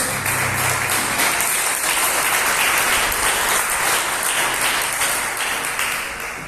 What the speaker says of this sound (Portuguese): As palmas de Deus